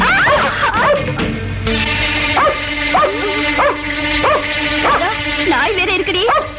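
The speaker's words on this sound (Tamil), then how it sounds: "நாய் வேற இருக்குடி." A dog barks and yips repeatedly in a rhythmic series of sharp, close barks, with a few whimpering notes, over background music in a Tamil film scene.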